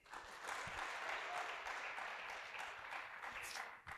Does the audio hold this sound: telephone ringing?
no